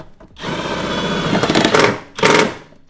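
A power tool whirs in short bursts while driving nuts back on to reinstall the taillight of a 2004 New Edge Mustang. The loud, close run is followed by a shorter second burst.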